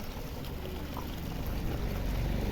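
Drinking water poured into a cup or vessel outdoors, a steady close splashing flow that runs evenly from start to finish with no voices over it.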